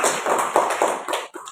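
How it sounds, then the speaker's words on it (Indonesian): A short burst of audience applause: several quick, close claps in an uneven rhythm that trail off after about a second and a half. "kita berikan aplaus"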